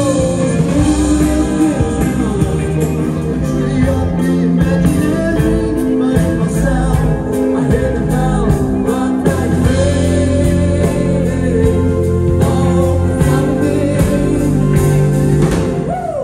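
A live band plays at the Uppsala Cultural Fest 2022 street festival, with steady, loud, tonal music and a driving beat running throughout, no voices standing out.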